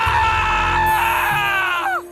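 A loud, shrill scream used as a sound effect in a Hindi horror audio story, from a man hanging upside down on a wall and vomiting blood. It holds for about two seconds, then its pitch drops away at the end, with no talk over it.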